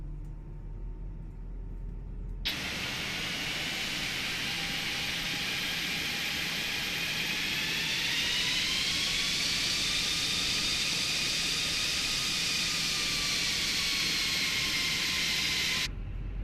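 A simulated Airbus A320 jet engine in a flight simulator spools up, a loud steady whine and roar with rising and shifting tones that holds for about thirteen seconds, starting and stopping abruptly.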